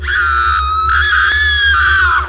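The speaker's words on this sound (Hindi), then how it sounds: "तन्वी ने चीख मारी।" A woman's sustained, piercing scream rings out loud and close for about two seconds, a horror-story sound effect with a low hum beneath it and no speech.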